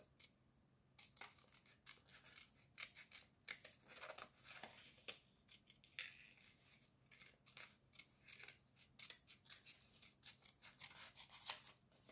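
Scissors snip through paper in a quiet room while a Halloween-themed craft shape is roughly cut out, giving a steady run of short, crisp close-up cuts with no talking.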